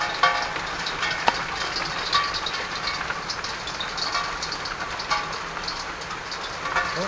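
A hailstorm in the Mount Pleasant neighbourhood of Calgary, heard as a steady dense hiss of hailstones striking surfaces outdoors, with a few sharper close impacts over the even roar and no talk.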